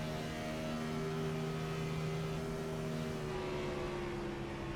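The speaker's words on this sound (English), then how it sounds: "You could hear the throttle's still up and he's all over the brakes." A NASCAR race car in the iRacing sim game drones steadily at Auto Club Speedway with its throttle hung open, a continuous, loud engine tone holding nearly constant pitch throughout.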